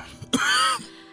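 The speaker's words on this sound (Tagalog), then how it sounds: "Iba na naman yung tunog ng ubo mo ngayon." A single throaty cough or hacking throat-clear, close and fairly loud, followed by a brief strained, moaning exhale before quiet.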